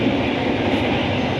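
Steady rumble and rattle of a Majapahit New Generation passenger train running, heard from inside the carriage as loud, continuous wheel and body noise without pauses.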